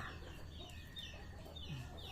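Chickens clucking softly at a rural Thai home, a few short low clucks and calls scattered over a quiet background hum, somewhat distant.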